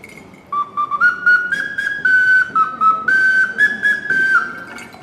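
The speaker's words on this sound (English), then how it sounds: "In Nepal, they make a whistle out of bronze, and they call it an ocarina." A bronze ocarina-style whistle from Nepal plays a clear, bright melody of sustained and stepping notes, loud and close, with short breaths between phrases and no talking.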